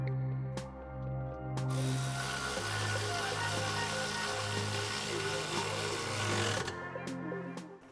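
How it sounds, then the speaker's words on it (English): A power tool driving the factory bolt back in on a 2018-2023 Mustang GT cat-back exhaust install, a loud sustained whirring buzz with short bursts at the start and finish, close up. "We'll reinstall the factory bolt."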